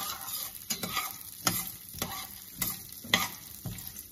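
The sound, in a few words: chana dal and urad dal being dry roasted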